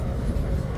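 A train runs smoothly, heard from inside a coach in Italy as a steady low rumble with no rhythmic clatter.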